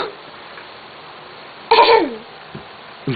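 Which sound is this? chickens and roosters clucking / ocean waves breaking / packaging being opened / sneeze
sneeze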